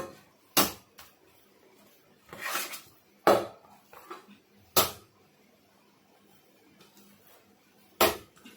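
Butter naan dough of wheat flour being kneaded and slapped down on a kitchen surface, five or six sharp thuds spaced irregularly with soft handling noise between, close and alone without talk.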